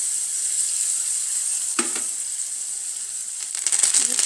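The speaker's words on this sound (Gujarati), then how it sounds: "સરસ રીતે આ બધો વઘાર થઈ જાય" Spices and green chilli tempering for dosa batter sizzle steadily in hot oil in a pan, a continuous close frying hiss with brief bursts and stirring crackles as ingredients drop in, no voices.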